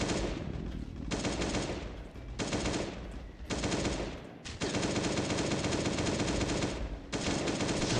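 Rapid automatic fire from a VSS rifle in the survival game Last Day on Earth, loud and close, coming in several sustained bursts separated by short gaps.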